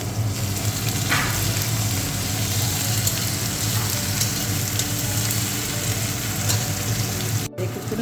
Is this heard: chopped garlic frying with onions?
yes